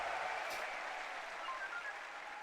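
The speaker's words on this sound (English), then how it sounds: "An eruption from the crowd there" Crowd at a Counter-Strike esports major match between FaZe and The MongolZ in Austin, a distant, steady wash of cheering and applause that holds throughout, faint and diffuse.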